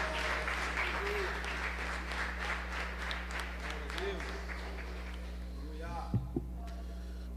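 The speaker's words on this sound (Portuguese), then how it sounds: "Aplauda o Senhor com alegria, exaltando o nome do Senhor." A church congregation claps in quick, rhythmic, fairly faint beats over a steady low hum, and the clapping fades out toward the end.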